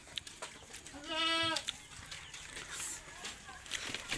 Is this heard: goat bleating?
yes